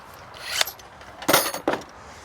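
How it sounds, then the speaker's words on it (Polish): Metal woodworking clamps set down on a workbench while building a hammock stand, giving a few brief clanking knocks near 0.6, 1.3 and 1.7 s, with no talk. "Odłożymy sobie ściski."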